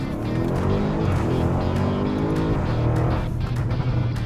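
A stage 2 tuned car, a Lamborghini Urus or Land Rover Defender, pulls away hard on a test drive, with loud, close engine roar climbing in pitch through the gears, heard steadily from start to finish.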